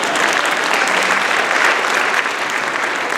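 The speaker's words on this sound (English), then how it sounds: "let's clap for the children who said yes." Audience applause at a school storytelling event, a sustained wash of many hands clapping at steady loudness throughout, with no other sounds standing out.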